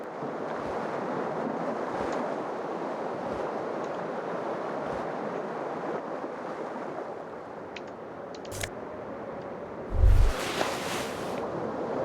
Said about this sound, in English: Cold wind blows in.